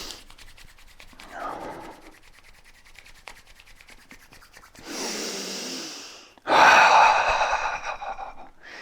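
Palms rub briskly together close to the mic, a soft friction hiss that swells in two bursts near the end, in a fascial body-work session before hip work.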